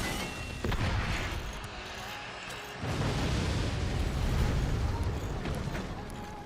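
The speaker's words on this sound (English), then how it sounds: "They have mortars from above." Mortar explosions in the strategy game Forts, a heavy rumbling roar of blasts that swells at about half a second and again near three seconds, sustained and dense with crashing debris.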